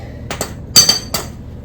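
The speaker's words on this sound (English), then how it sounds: "trying to get the old bolt out the rest of the steering box" Metal clinks and knocks from working an old bolt out of a vehicle's steering box: a few sharp, close taps in quick clusters with brief pauses between them.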